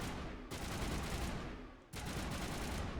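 Loud shotgun blasts in a Mass Effect firefight come as two sustained bursts of harsh gunfire, separated by a short drop-off.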